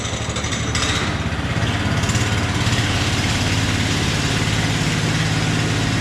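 A power trowel's engine runs steadily while finishing a concrete garage floor, a loud, close, even motor drone with a slight rise in pitch partway through and no talking.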